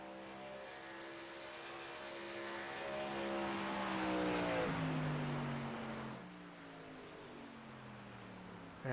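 Race trucks in iRacing roar past one after another on an oval, engines droning and pitching down as they sweep by at close range, a continuous mechanical howl with no talk.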